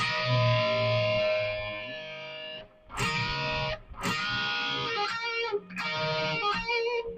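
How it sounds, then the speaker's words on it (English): Heavily distorted electric guitar sustaining notes that bend upward in pitch, played in several phrases with short gaps between them, loud and close. "You're aiming for this sound."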